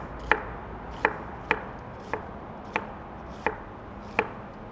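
A knife slices onions thin on a cutting board in seven crisp, evenly spaced chops, close and clear against a quiet kitchen background.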